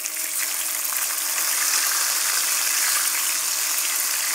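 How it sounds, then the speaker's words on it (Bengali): Fish pieces marinated in turmeric powder, chili powder and salt fry lightly in a pan, giving a steady, dense hiss that stays at an even, fairly loud level throughout with no voices. "আমি মাছগুলাকে হালকা ভেজে নেব"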